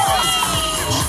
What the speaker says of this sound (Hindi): AKP अखंड कुमार प्रताप, प्लीज जोरदार ताली हो